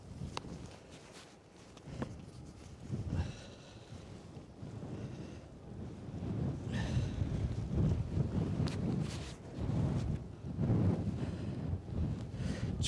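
Strong gusty wind at Edinburgh airport buffets the microphone in uneven surges, roaring louder and softer with a few faint thumps.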